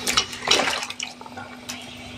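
Wet chicken pieces dropped into a pan of cooked-down spices for chicken kosha, making a couple of close, splashy, sputtering bursts that quickly settle into quieter crackling.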